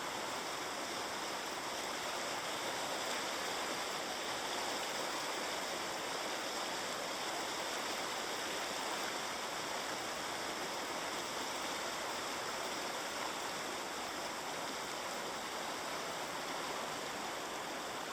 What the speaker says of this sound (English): The creek is definitely flowing. Flowing well, flowing strong.